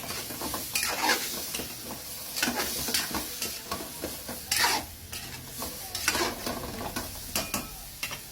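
Food stirred in a hot pan after fish sauce and black pepper go in, a spoon scraping in irregular bursts over a steady sizzle, close and fairly loud with no voices.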